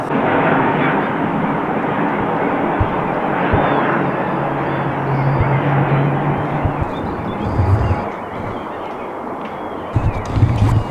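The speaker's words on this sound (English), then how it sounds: "There's an airport here called Bromma, super close to my place. There's always planes landing." A fixed-wing airplane landing near Bromma airport roars steadily and loudly throughout, a broad continuous engine rumble with a low drone swelling midway and a few sharp knocks near the end.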